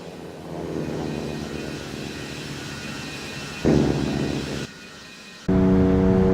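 A simulated airplane's engines hum and roar during a takeoff on runway 26 at Albuquerque in the Infinite Flight game, a steady close drone with harmonic tones that cuts abruptly between louder and quieter engine pitches.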